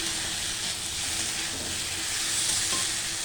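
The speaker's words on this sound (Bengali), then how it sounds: "দিয়ে একটু ভালো করে নেড়ে নিই।" Ground salt, turmeric and cumin being stirred in a hot frying pan, a steady close hiss of sizzling oil with soft scraping strokes throughout and no voices.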